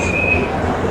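A train pulling into a crowded Sealdah station platform, with a steady close rumble of wheels and a thin high squeal running through most of the moment.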